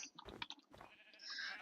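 Sheep bleat in a dwarf-kingdom video game, two short nasal calls close together followed by a third, fairly quiet, with a thin high synth tone rising beneath them and no talking.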